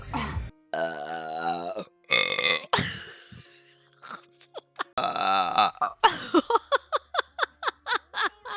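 A woman burps loudly and up close: several long, drawn-out belches first, then a quick run of short, punchy burps in rapid succession.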